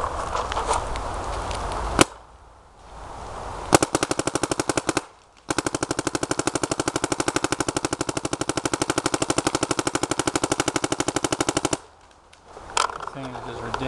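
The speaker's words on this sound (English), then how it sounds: "So I'm going to shoot it, air it up, shoot it for you." A DM12 paintball marker fitted with a Billy Wing bolt fires a long rapid string of sharp, evenly spaced shots, preceded by a few single pops and short hissing pauses.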